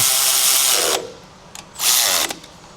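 A power tool runs down the hydraulic mount bolts on a Bad Boy 40 Series tractor, two loud close bursts of whirring drive separated by a short pause, each ending abruptly.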